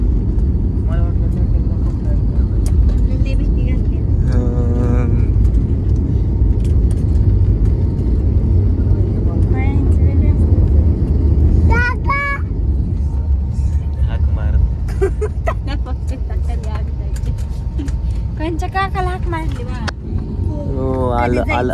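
Airliner braking hard on the runway after touching down, a loud steady roar of engine and rolling noise that eases off partway through, heard from inside the cabin with passengers talking over it.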